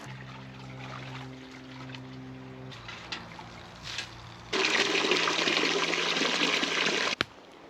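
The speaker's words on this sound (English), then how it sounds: "Let's go clean the water dish for the dog." Tap water runs into a dog's water dish outdoors at a mountain cabin, starting abruptly as a loud steady splashing gush after some quieter hums and clinks, then cutting off sharply near the end.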